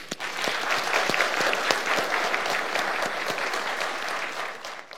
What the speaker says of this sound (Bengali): তাকে সবাই জোরে তালি দিয়ে অভিনন্দন জানাতে চাই